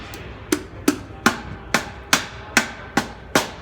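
Eight sharp taps at an even pace set a Honda GX390 crankcase side cover into place, each strike close and bright with a short ringing decay.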